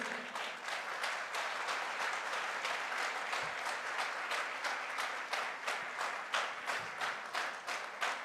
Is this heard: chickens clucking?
no